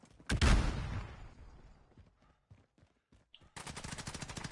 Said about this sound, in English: He just shot me through a wall.